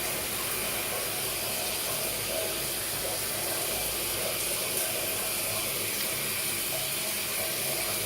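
Water leaking out of a hole in a building floor makes a steady, even hiss of running water with no breaks, moderately loud and close.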